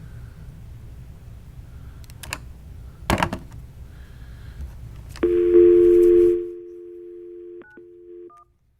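During a workshop conference call, a telephone line dials out to reach a caller: a few scattered clicks, then a loud steady tone lasting about a second, followed by short, quieter beeps before silence.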